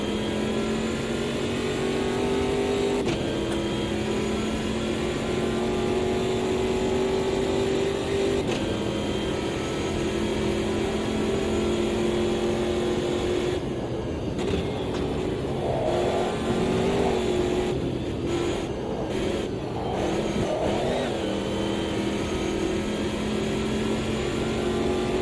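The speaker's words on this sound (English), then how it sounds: "Haven't driven this pickup truck for quite a while now." A 370hp V8 pickup truck in the Automobilista 2 racing game drones loudly and steadily throughout, its pitch shifting as it revs up and down through gear changes.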